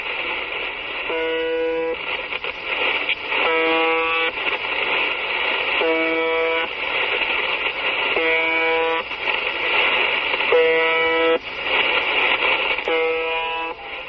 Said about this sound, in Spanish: Pues podría ser el claxon de un camión, la sirena de un barco, pero no, se llamaba UVB-76